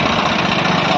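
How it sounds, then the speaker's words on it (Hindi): A 2010 Swaraj 855 FE tractor idles nearby with a steady, loud diesel chug and a faint rhythmic knock, with no talking. "स्वराज 855 FE ट्रैक्टर शेर का बच्चा"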